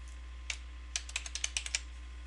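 Keys tapped on a computer keyboard while entering a short website footer message: a single click, then a quick run of about eight close, light keystrokes in a quiet room.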